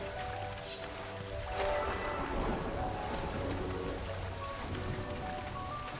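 Steady rain patters on surfaces with a soft continuous hiss, a faint rumble beneath and occasional drips, with no voices.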